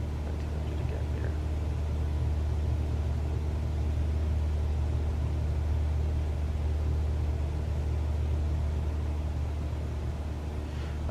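Cessna 172 engine at reduced power in flight, a steady low drone with a continuous hum filling the cabin, constant and unbroken throughout with no talk.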